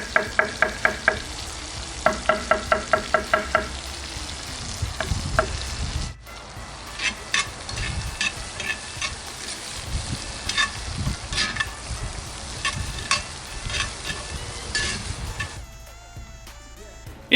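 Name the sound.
mushrooms frying in the steak pan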